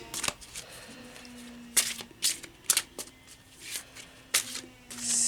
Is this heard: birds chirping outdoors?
no